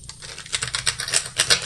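Oversized tarot cards being shuffled by hand, a rapid run of papery riffling taps and slaps with uneven rhythm, close and fairly quiet, no talking.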